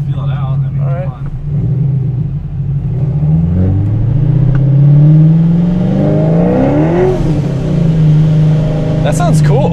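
A Ford Mustang GT350 engine on a dyno revs up through first gear, its pitch rising and falling loudly, with people talking over it.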